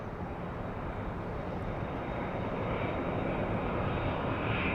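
A British Airways jet airliner passes at LAX airport, its engine roar loud, steady and broadband throughout, with no voices over it.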